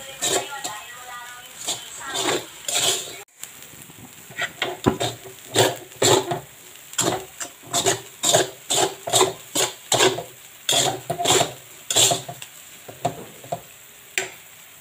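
Fried rice with egg stirred in a pan, a spatula scraping in steady rhythmic strokes over a continuous sizzle, close and fairly loud, about two scrapes per second throughout.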